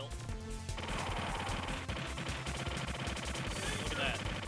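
A drill attack in an old-school fighting video game grinds as a loud, rapid, continuous rattling barrage lasting several seconds, layered over dense game music and effects.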